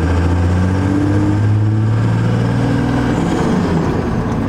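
A 12V Cummins diesel truck engine fitted with a new big turbo idles steadily and close, giving a deep, even rumble with no speech.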